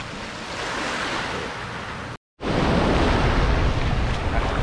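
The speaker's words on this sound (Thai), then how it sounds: "คลื่นแรง" Strong ocean surf on a Koh Tao beach makes a steady, loud, broadband roar of crashing waves with wind buffeting the microphone, broken by a brief dropout.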